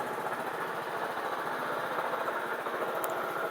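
A Benelli Zafferano scooter engine idling, a steady continuous low hum at moderate distance with no changes in revs.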